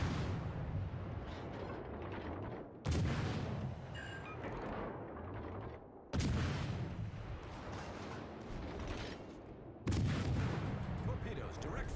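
Naval guns firing in a warship video game, with three heavy booming salvos spaced a few seconds apart, each a sharp loud crack followed by rumble, with quieter battle noise between.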